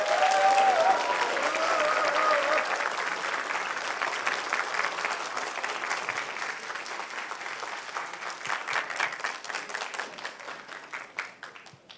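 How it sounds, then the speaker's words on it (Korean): A youth town hall audience applauds to welcome presidential candidate Moon Jae-in onto the stage: sustained, full crowd clapping that gradually settles into a more rhythmic, pulsing beat as it continues, with a brief tone at the start. "우리 오늘 이 표준 이력서의 주인공인 문재인 지원자를 큰 박수로 무대로 모셔보겠습니다."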